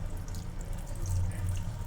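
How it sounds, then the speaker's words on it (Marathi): Water trickles steadily into a bowl of gram flour (besan) batter for crispy onion bhaji, a soft continuous pour with a low rumble underneath, close and alone. "आता आपण पाणी टाकून घेणार आहे"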